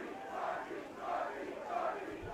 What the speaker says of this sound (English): The crowd chanting Sharpie in appreciation for what he has done for this offense so far